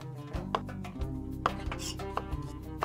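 Knife chopping ginger on a cutting board, sliced thin or minced fine, as a few crisp, irregular close taps over low kitchen background.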